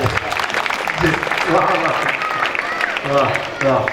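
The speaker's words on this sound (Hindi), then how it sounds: "कविता खत्म, ताली बजाओ को बजाओ" An audience at a Jain temple in Dujod claps steadily after a poetry recitation while voices talk and call out over the applause.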